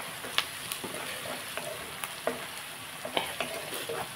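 Onions frying steadily in a pan for a potato, beetroot and carrot fry, with a constant close sizzle broken by light scraping taps of a stirring spoon.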